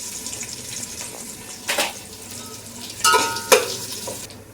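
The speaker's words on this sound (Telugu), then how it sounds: "ఈ అల్లం వెల్లుల్లి పేస్ట్ వేగిన తర్వాత" Ginger garlic paste frying in a pan for Hyderabadi chicken dum biryani, a steady sizzle with a few sharp clattering stirs and scrapes of a spoon, close and fairly loud, no talk.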